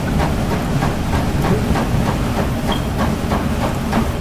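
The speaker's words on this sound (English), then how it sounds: "Now I need to wait for the train again." A train in the Roblox game Wild West rumbles past steadily with a rhythmic clickety-clack of wheels over rails, loud and close, with a hissing wash throughout.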